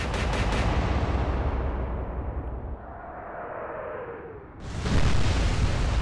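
Battleships in a naval battle game fire their guns in a heavy, booming salvo. A long rumbling roar fades, and then a second loud blast hits near the end, with no talking.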